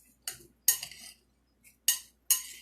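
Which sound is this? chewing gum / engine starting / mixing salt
mixing salt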